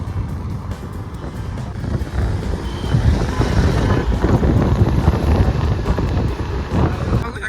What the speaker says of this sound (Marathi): ये मेरा भाई गाड़ी चला रहा है